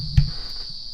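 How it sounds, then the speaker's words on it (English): Cicadas outside on a warm summer day in Melbourne, Australia keep up a steady, shrill, continuous drone in the background, with one brief low thump near the start. "it's a warm summer's day in Melbourne, Australia, and the cicadas are deafening outside"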